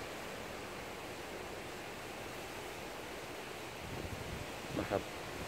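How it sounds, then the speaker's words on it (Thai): Strong storm wind blows outside a house, heard from indoors behind a sheltering wall as a steady, full rushing roar. A few soft thumps break through near the end. "เกิดกระแสลมพัดพอสมควร"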